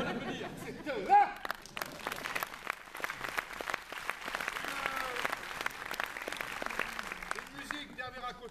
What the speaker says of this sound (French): On va l'applaudir.